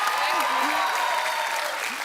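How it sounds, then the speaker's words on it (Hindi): A television talk show studio audience claps loudly to welcome guests, a dense, steady round of applause with faint voices underneath. "रणवीर और वाणी के लिए जोरदार तालियां।"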